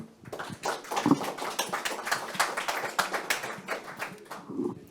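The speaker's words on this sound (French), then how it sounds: "On peut de nouveau applaudir." Small audience clapping together at the close of a question session at an open-source project meetup, a fairly close, steady patter of hand claps lasting several seconds.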